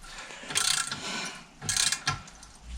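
A ratchet wrench turning a fitting on a tractor engine sump, heard close as two bursts of rapid clicking separated by a brief pause.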